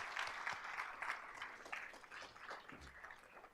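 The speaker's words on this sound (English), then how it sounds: "Can I just please have everyone give a round of applause for that?" Audience applause at an outreach and engagement awards ceremony, honoring an Atlanta community event; moderate, steady clapping from a crowd that sounds somewhat distant and thin, lasting a few seconds.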